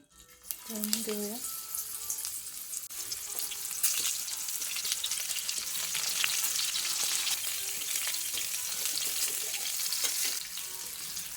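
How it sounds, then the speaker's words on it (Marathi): Masala-stuffed bitter gourds frying in hot oil, a loud continuous sizzle and crackle that builds after a brief clatter at the start and runs steadily to the end, with no one talking over it. "आपण आता याला मस्त तेलात फ्राय करून घेऊया"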